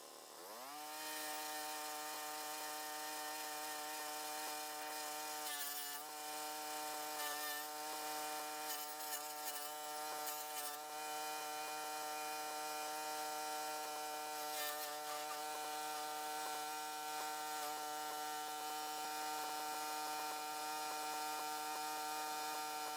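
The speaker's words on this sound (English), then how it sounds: "We'll chip some down in the bottom chipper and then feed the rest through the top." A Harbor Freight wood chipper's engine drones steadily throughout while giant sunflower stalks are fed in, with rougher grinding bursts where the stalks get chipped.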